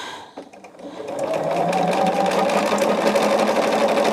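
After a quiet moment, a sewing machine starts up and stitches steadily, a close, continuous mechanical whir with a rapid rhythmic hum.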